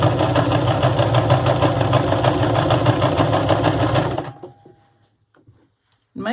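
A home sewing machine runs steadily with a bobbin nearly out of thread, a loud, even mechanical whir with a fast repeating stitch rhythm that stops after about four seconds, leaving near silence and faint handling noises.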